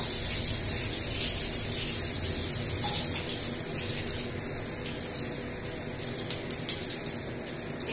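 Dried chillies, bay leaf and five-spice sizzle in hot oil for a mango and katla fish curry: a loud, steady, close hiss that crackles on without a break.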